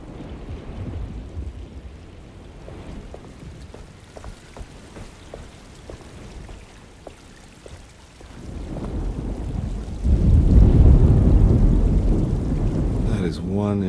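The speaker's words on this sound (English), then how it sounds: "Just keeping an eye out for the storm. Radio says it could be a wild one." Thunderstorm ambience in the video game Alone in the Dark: steady rain with low rumbling that swells louder toward the end, broken by a few faint ticks.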